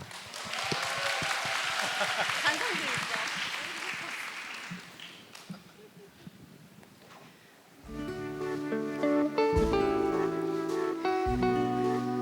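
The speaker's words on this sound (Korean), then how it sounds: "여러분들 이동하실 때 박수 부탁드리겠습니다" An audience claps steadily for several seconds as readers move to the stage at a village festival event, the applause fading out before piano music begins.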